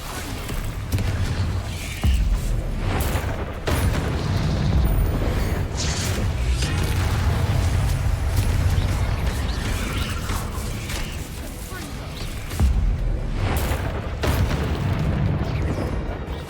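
Bombarda spell blasts going off in the video game Hogwarts Legacy, a run of loud booming explosions with sharp onsets, close and dense, mixed with rumbling game effects and no talk.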